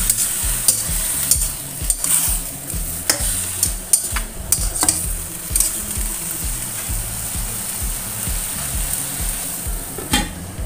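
Okra and mustard greens simmer in a pan with added water, giving a steady close sizzle and bubbling with repeated stirring and scraping against the pan, no voices.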